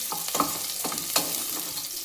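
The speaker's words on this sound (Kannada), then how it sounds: "ಈಗ ಒಗ್ಗರಣೆಗೆ ಹಾಕ್ಕೊತಾ ಇದ್ದೀನಿ." Tempering for field bean sambar spits and crackles in a hot pan, a steady close sizzle broken by a few sharper pops and scraping stirs, with no voices.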